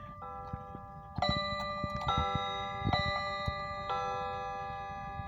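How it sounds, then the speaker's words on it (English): A mechanical weight-driven clock ticking once its bezel is closed, with sharp metallic ticks and a few ringing chime-like strikes sustaining a bright resonant tone, close and clear in a quiet room with no talking. "This is what it sounds like."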